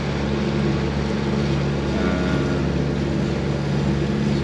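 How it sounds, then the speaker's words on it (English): A sailboat's engine runs under power in Bahamas waters ahead of a storm, a loud, close, unbroken mechanical drone with a steady low throb and no voices. "I started this engine as well so that we have at least some engine power."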